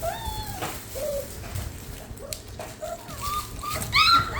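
Several puppies whimper and yip in high, wavering little cries, scattered across the moment, close and fairly clear over faint background noise.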